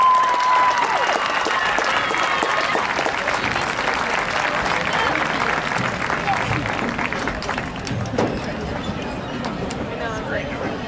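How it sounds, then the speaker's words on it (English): Applause from a large audience at a 4A marching band festival awards ceremony, a loud sustained roar of clapping mixed with crowd voices and cheers, the overall level easing slightly toward the end. "let's give one more round of applause to these fine performers."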